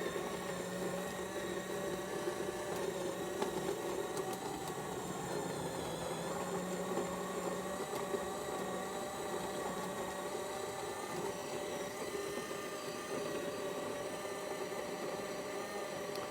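A Jura-Capresso coffee grinder set to its very finest grind whirs in a steady, unbroken mechanical drone with a faint high whine, holding at an even level throughout.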